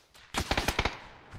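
Gunfire in PUBG: a sharp burst of about six rapid shots fired close together, loud and crisp, then quickly fading into quiet.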